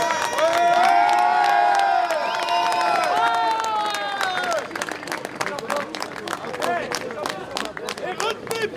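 Protesting farmers outside the European Parliament cheer and clap as a crowd, with loud shouts and applause blending with talk and whistling, dense and close throughout.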